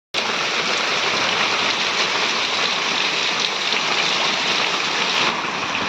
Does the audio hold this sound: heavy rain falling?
yes